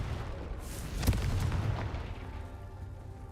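Confringo blasting spell fired in the Hogwarts Legacy video game, a single sharp blast with a booming low thump that rolls off into a sustained rumbling wash of game ambience.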